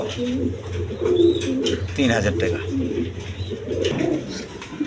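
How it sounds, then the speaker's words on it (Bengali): A pair of Giribaz high-flying pigeons coo in low, repeated, throaty notes close by, while someone talks over them. "এখানে হাই ফ্লাইং এক পেয়ার গিরিবাস কবুতর আছে"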